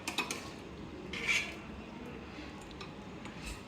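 Beef on the bone simmering with jackfruit seeds in a pot, with a few light clinks of a utensil against the metal near the start over a steady low background.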